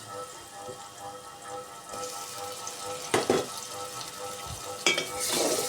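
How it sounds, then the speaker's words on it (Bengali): Shrimp frying in oil with onion and garlic paste in a pot, a steady close sizzle with occasional louder crackles and stirring scrapes. "চিংড়ি মাছগুলো কিছুক্ষণ পেঁয়াজ রসুনের সাথে ভেজে নেব"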